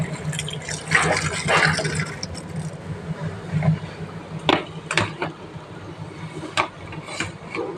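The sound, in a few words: water while washing carrots and beans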